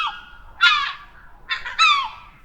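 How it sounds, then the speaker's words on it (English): Two loud harsh bird cries, each a quick descending squawk, sounding close and alone with no talk, like gulls crying by the sea along a weathered boardwalk. "The salty air and the cry of seagulls greeted him as he walked along the weathered boardwalk."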